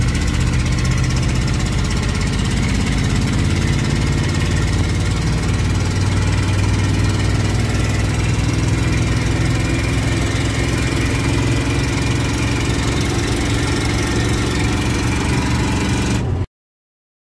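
Ford F-150 pickup engine under acceleration, a continuous loud rumbling drone heard from close by for about sixteen seconds before cutting off abruptly, with no voices.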